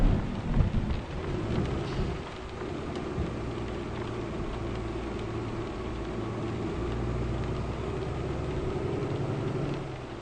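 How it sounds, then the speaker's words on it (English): Heavy rain in the Euro Truck Simulator 2 driving game, with a loud thunder rumble at the start fading into a steady downpour and a low engine drone underneath, and no voices. "Oh, that was a very nice thunder sound."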